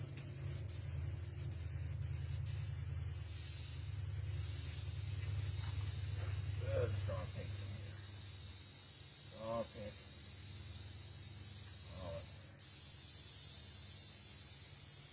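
An airbrush sprays oil paint in a steady, close hiss that runs throughout, with a low hum beneath and a few brief voice-like sounds in the middle.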